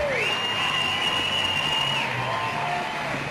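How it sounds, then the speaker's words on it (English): Crowd at the 2010 WUCC mixed ultimate frisbee final claps and cheers after a score, a steady wash of distant applause with a long, clear whistle rising above it. "Quite a bit of clapping by the crowd."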